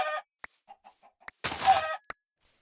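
Chickens in the video game Minecraft (GregTech New Horizons modpack) give short soft clucks, with a longer squawking call in the middle and a few clicky game sounds between them, and no talking.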